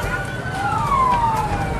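A fire engine siren wails in a single rising and falling sweep at a burning shop in Lampung, heard over loud street noise and crowd rumble.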